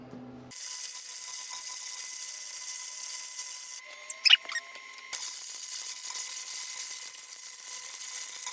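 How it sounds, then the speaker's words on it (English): Welding on a shop-built swivel grinder stand, a steady hissing crackle with a faint tonal hum, broken midway by a brief pause with a couple of sharp squeaky bursts. "let's do some welding."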